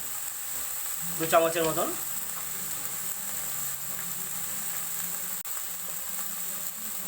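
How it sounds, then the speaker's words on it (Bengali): Turmeric and spices frying in mustard oil for a pomfret curry, a steady soft sizzle throughout, with someone speaking briefly near the start. "ভালো করে আমরা কষে নেব"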